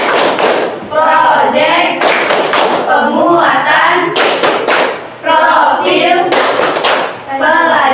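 A group of pupils claps hands together in a patterned rhythmic chant, bursts of sharp loud claps alternating with chanted voices, close and lively.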